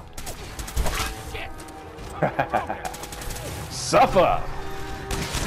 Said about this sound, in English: This baseball gun was the way to go.